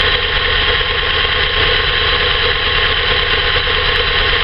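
A VS Commodore engine idles roughly with a suspected head gasket or valve fault, a continuous close, loud, low-pitched drone with an uneven throb and no voices.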